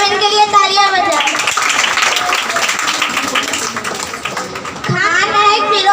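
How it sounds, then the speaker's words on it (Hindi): Audience applause at a prize distribution program, a burst of clapping in the middle between stretches of a person speaking, fairly close and loud. "सब इनके लिए तालियां बजाएं।"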